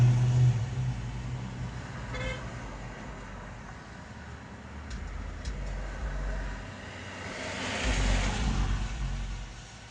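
A car drives along a street and swells from a low rumble to a louder pass before easing off, with steady traffic noise and a faint toot behind it.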